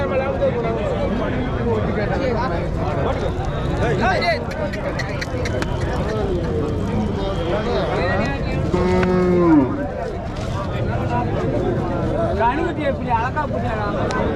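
Cattle mooing at a busy livestock market crowded with cows and heifers, with one clear, drawn-out low moo rising above a constant din of crowd chatter, vehicle noise and other animals.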